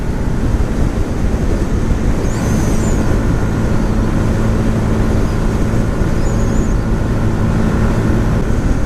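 A 2018 Yamaha MT 125 motorcycle held at full throttle in 6th gear, its engine droning loud and steady for the whole stretch, mixed with heavy wind rush and no talking.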